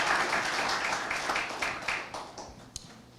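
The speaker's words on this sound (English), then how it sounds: "So another round of applause" An audience at a men's health summit applauds the champions, dense clapping that starts full and gradually thins out, ending in a few scattered claps.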